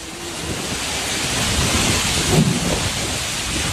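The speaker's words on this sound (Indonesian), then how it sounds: "Hujan deras dan angin kencang membuat asbes dan tiang penyangga milik warga terbang akibat terjangan angin." A thunderstorm with heavy rain and strong wind in Tapos, Depok, West Java, a dense steady roar of rain and gusts with a low rumble of thunder swelling near the middle, loud and close.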